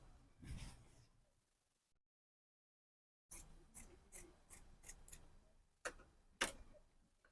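Scissors cutting fabric pieces for a shirt dress pocket: after a quiet pause, a run of about nine crisp, evenly spaced snips, close and fairly soft.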